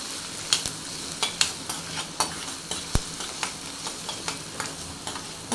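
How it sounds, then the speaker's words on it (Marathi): Onions sautéing in a pan for a prawn curry, a steady low sizzle broken by repeated scraping stirs at an uneven pace, close by with no voices. "छान लालसर कलर येईपर्यंत छान परतून घेऊया"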